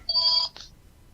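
A single short electronic telephone ring, bright and warbling, sounds close by for about half a second, followed by a brief click and then quiet.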